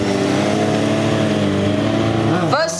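Stunt vehicles circling and drifting at a stunt show, a loud continuous engine roar held at steady revs that drops sharply at the end, with an announcer talking over it.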